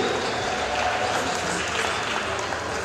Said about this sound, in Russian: Уважаемые болельщики, ну просто стоит посмотреть и похлопать этим людям.